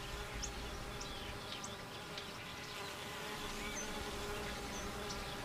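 A dense, steady buzz of many bees at a hive entrance hums continuously, with occasional higher whines of individual insects passing close by.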